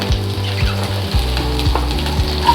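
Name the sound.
green chilies and onions sizzling in hot pan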